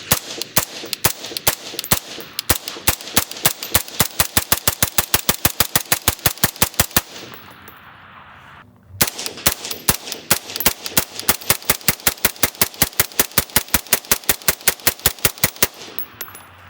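Rapid semi-automatic shots from a Flow 556K rifle fitted with a HUX WRX suppressor, loud sharp reports in steady fast strings, a short pause around the middle, then another long string of evenly spaced shots.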